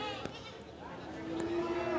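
Goats bleat in a busy outdoor livestock market in Indonesia, one drawn-out bleat near the end standing out over crowd chatter and nearby talking.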